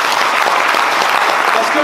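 Loud, dense applause fills a political meeting against pension reform, a continuous wash of many clapping hands from the crowd, steady from start to finish.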